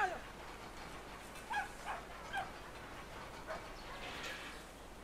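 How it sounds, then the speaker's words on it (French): A large dog barking in the video game Brothers: A Tale of Two Sons, a few short, scattered yelps and barks over a steady, hissing background ambience. "Là, il y a un gros chien."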